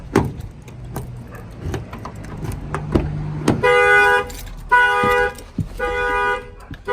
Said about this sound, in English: If I open the door with the key, the alarm is going to fire off